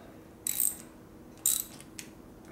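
A hand ratchet clicks in two short, rapid bursts as it tightens a part on a rebuilt 1972 Harley-Davidson Sportster with a 1000cc Ironhead engine. A brief third click follows in a quiet workshop with no talking.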